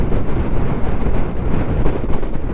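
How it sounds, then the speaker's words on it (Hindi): Strong wind blowing on a snowy high mountain road near Khardung La in Ladakh, a loud, constant roaring buffet against the microphone with no pauses. "हवा चल रही है बहुत तेज़"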